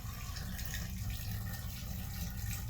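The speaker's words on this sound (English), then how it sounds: "got some water in this bucket, and as I start pouring water in there, you can hear" Water poured from a bucket into a toilet, a steady close splashing and gurgling rush with no voices.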